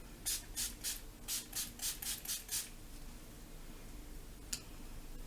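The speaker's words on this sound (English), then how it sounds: "So I just go ahead and spray that all over my face, just a few sprays." Eight quick hissing spritzes of a spray bottle in a steady rhythm, close and soft, then a pause and one last short spritz.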